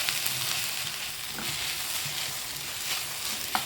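Okra and potato fry in a pan for a Tamil poriyal, a steady soft sizzle with occasional scrapes and clinks of a spoon stirring, close and continuous with no talk.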